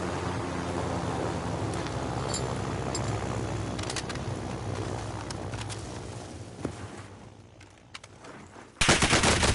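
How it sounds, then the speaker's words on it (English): Dense automatic gunfire from a battle royale video game rattles continuously and loudly, with bursts thinning briefly before a sharp, loud volley returns at the end; no talk over it. "Oh damn, we're getting shot."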